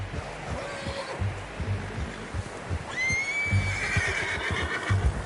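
A horse in Red Dead Redemption 2 gives a loud whinny midway, after hoof clops and quieter shuffling, with a faint earlier nicker.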